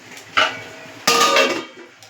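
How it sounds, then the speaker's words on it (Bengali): A metal lid is set onto a cooking pot of vegetable curry with lentil fritters, two clanking clatters close by, the second longer and ringing briefly before fading. "এবার ঢাকা দিয়ে দেবো"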